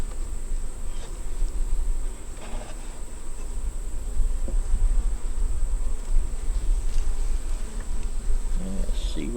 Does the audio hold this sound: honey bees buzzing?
yes